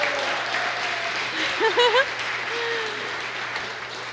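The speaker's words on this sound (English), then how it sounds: "Big round of applause for that." Wedding guests applaud at a reception, a soft spread of clapping with some voices and brief tonal sounds mixed in, fairly quiet and distant.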